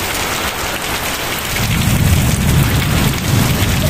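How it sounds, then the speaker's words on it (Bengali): Heavy rain pours during a windy Kalbaishakhi storm, a dense, loud wash of falling water, with a deep rumble of thunder swelling partway through and holding to the end. "বৃষ্টি হইতাছে, বোঝাই যাইতাছে"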